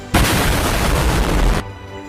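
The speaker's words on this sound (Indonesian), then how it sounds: "Serangan itu sampai membuat ledakan yang besar." A big explosion from an attack, one loud, full-bodied blast sustained for about a second and a half before cutting off abruptly, close and alone.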